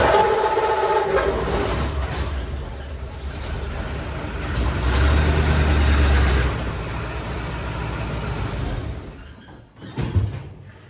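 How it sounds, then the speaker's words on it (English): A Flathead Ford car rumbles with a low, steady engine drone as it slowly drives up onto blocks. Clunks and creaks build midway, then a few sharp knocks land near the end. "First thing we gotta do is drive up on blocks because I cannot fit a floor jack underneath this"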